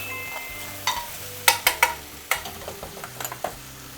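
Mushrooms coated with a small splash of mentsuyu are tossed in a frying pan for a peperoncino, a string of sharp utensil clicks and taps against the pan over a faint sizzle.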